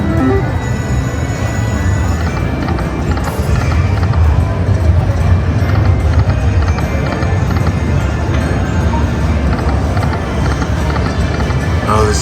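Buffalo stampede effect from a Cash Express Luxury Line Buffalo slot machine in a casino: loud, continuous thundering hoofbeats with a rumbling, galloping rhythm over busy background noise.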